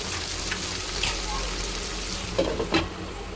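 Okra and green chillies fry in a pan over a gas flame, giving a continuous close sizzle with a few louder crackles and stirring scrapes toward the end.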